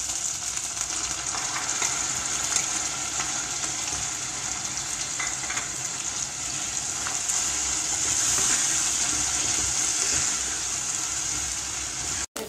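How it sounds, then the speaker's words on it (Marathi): Steady, close sizzling of onion and tomato frying in oil for Kolhapuri misal, a continuous bright crackle with occasional stirring sounds and no talking. "कांदा आणि टॅमॅटो चांगला परतलं गेलं आहे"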